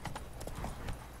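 Horse hooves clip-clop in the video game The Witcher 3, a quick rhythmic run of soft hoofbeats heard faintly and close for about a second.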